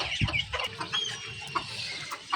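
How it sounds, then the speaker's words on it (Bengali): Chinese and crossbred ducks leave their pen with short, scattered quacks and clucking calls over soft shuffling, close by and moderately loud. "দেখুন হাঁসগুলো বের হয়ে আসতেছে"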